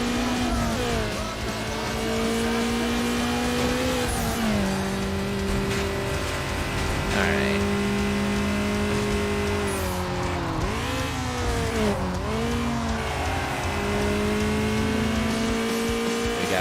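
Race car engines in Need for Speed Underground drone steadily and loud, pitch rising and dipping with gear shifts and revving, with occasional tire squeal and no talking.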